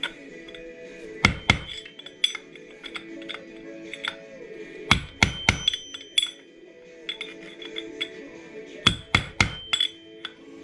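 Metal tab on a Yamaha Banshee motorcycle being pried and bent over to lock a nut, heard as three bursts of sharp metallic clinks and knocks spaced a few seconds apart, close and clear.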